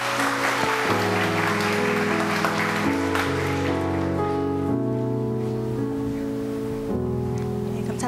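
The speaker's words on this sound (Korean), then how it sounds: "우리 뜨거운 박수로 환영해 주시기 바랍니다" A church congregation claps in welcome during a discipleship-course completion service. The steady, rain-like clapping runs under sustained keyboard or organ chords that carry through the whole stretch.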